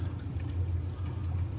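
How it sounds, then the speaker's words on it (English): Water steadily filling an RV water heater through a hose, a continuous low rushing and trickling flow heard close and alone at moderate level. "we gotta be getting close to being full on that water heater"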